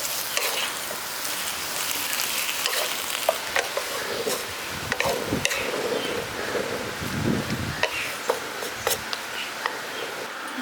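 Gourd greens and hilsa fish head sizzle in a frying pan as spices are stirred in, a steady hissing fry with frequent scraping and clicking of the spoon against the pan.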